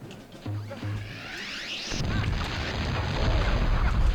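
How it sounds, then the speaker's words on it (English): A pirate torpedo explodes in Rayman 2 Revolution on PlayStation 2: a rising whine ends in a sudden loud blast midway, followed by a sustained rumbling roar that grows slightly stronger. "Okay, so they're just firing a torpedo at me."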